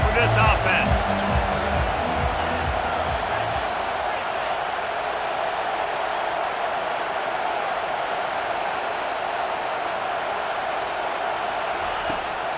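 A college football stadium crowd at an NC State versus Louisville game keeps up a steady, broad roar under continuous commentary.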